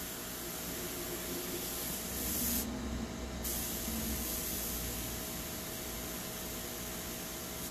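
An airbrush spraying paint for a lighthouse painting gives a steady soft hiss of air and mist, close and continuous, with a brief louder burst of spray partway through.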